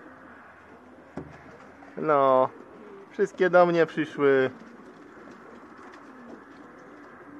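Pigeons coo in soft, throaty bursts nearby in a pigeon loft, with a voice speaking briefly before them over a low background hum.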